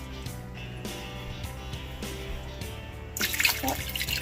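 Water poured from jars into a cooking pot for pork chile verde, a soft rushing splash arriving near the end after a few quiet clicks and knocks.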